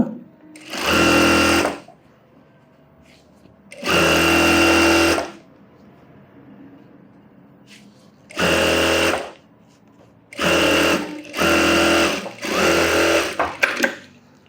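A sewing machine stitches a fold of fabric on a scalloped model blouse in five short bursts of rapid needle clatter, close and loud, separated by quieter pauses.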